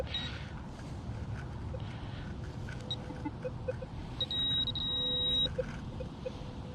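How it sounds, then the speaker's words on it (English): A metal detector sounds off over a deep nickel-range target, later dug up as a Boy Scout button, its electronic tone ringing steadily for about a second above constant hum and ground noise. "This looks like a solid nickel signal right here."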